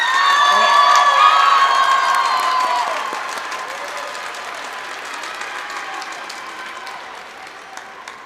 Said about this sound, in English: let's give Audra, our Master of Ceremonies, a round of applause for helping guide us through today's ceremony.